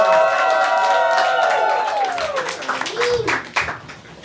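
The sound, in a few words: audience applause and cheering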